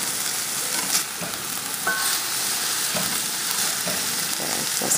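Onions and mushrooms frying in a pan for a shepherd's pie, a steady close hiss and crackle of sizzling with occasional stirring scrapes, no talk.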